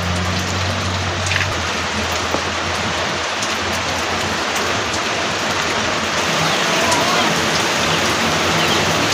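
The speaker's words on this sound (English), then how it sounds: "Guys, it's raining." Steady rain pouring down outdoors at a cooking spot in rural Africa, a continuous loud hiss of drops hitting surfaces with a brief low hum at the start.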